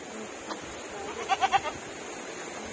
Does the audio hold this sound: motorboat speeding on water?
no